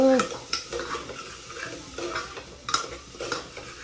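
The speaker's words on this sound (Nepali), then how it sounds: "बुढो चाहिँ यहाँ मासु पकाउँदै हुनुहुन्छ।" Meat cooks in a pan while being stirred. Repeated scraping and clinking of a utensil against the metal rises over a constant sizzle, close by, with no talking.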